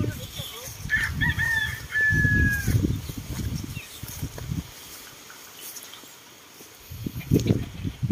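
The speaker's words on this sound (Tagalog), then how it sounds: "Yan, labasan yung mga manok." Chickens in a farmyard where squash is being planted give a drawn-out rooster crow and bursts of clucking, fairly close, with quieter pauses between calls.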